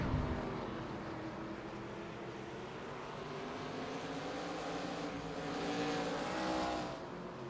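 Race cars, a Volvo among them, run down the back straight at Langley Speedway during an amateur Rod Knock Cup race, a steady broad engine drone that swells slightly near the end.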